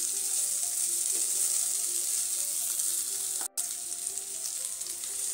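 Ginger-garlic paste sautéing in a hot pan for a Marathi-style bottle gourd curry, giving a steady, continuous sizzle at close range with a brief dropout partway through and no voices.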